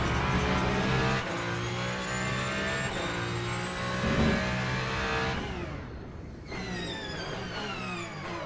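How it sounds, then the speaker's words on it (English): Race car engine in the sim racing game Le Mans Ultimate at Circuit of the Americas, a loud sustained high-revving howl with rising pitch through the gears, then a sharp drop-off and renewed acceleration, no talk. "I honestly believe that Le Mans Ultimate Car Sounds could be used for an ASMR for sure."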